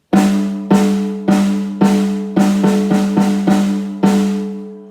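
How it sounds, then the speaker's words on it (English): A snare drum with its snares switched off, struck about eight times in an uneven rhythm, each hit a loud, close, ringing tom-like tone that decays quickly with no snare rattle. "We can also turn the snares off, as I mentioned earlier, by flicking this switch here."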